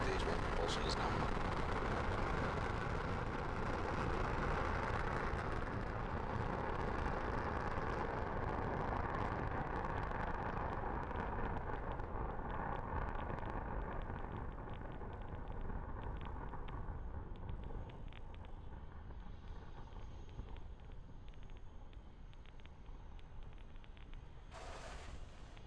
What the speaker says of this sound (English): Falcon 9 had an on-time liftoff through the fog